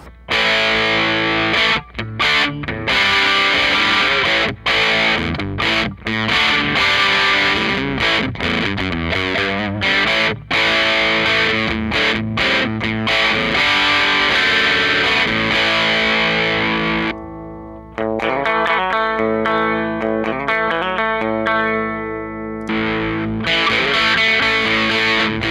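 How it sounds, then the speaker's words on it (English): An electric guitar played through a modded Boss DS-1 distortion pedal with the drive turned up, giving heavily distorted chords and riffs that ring steadily for about 25 seconds, with a short sustained note near the end. "I'll give this one a little bit more distortion."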